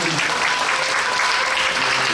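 A congregation at a church worship service for a denominational president's inauguration, applauding an elderly pastor, a loud, full and steady burst of clapping that fills the room, with some voices mixed in.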